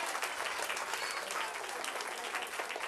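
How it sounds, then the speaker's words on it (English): Audience at a live-streamed community show clapping steadily and densely for a child on stage, a continuous fairly loud wash of applause throughout. "Clap loud for Amber."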